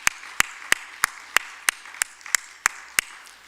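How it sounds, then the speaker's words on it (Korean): A church congregation's welcome, heard as a single person's steady, evenly spaced claps, about ten sharp hits at a moderate pace with nothing else around them. "우리 같이 환영의 박수 한번 올립시다."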